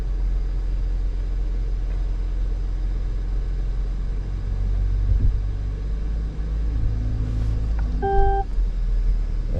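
A 2021 Cadillac Escalade steers itself into a parking space with automatic parking assist, its low engine rumble steady and close, with a brief electronic chime of three tones near the end.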